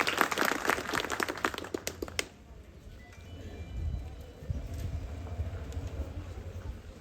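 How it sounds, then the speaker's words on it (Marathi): Applause from an audience for children at an outdoor Shiv Jayanti village celebration, a dense burst of clapping that cuts off abruptly after about two seconds, leaving low crowd murmur and background noise. "एकदा काय करा या सर्व लहान मुलांसाठी एकदा जोरदार टाळ्या होऊन जाऊ द्या"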